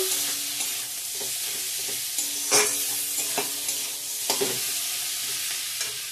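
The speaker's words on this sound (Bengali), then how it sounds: "কুচানো টমেটোটা দিয়ে দিলাম, ভালো করে কষিয়ে নেব।" Chopped tomato frying for ghugni sizzles steadily in a pan while a spoon scrapes and stirs it, with a few sharp clacks against the metal.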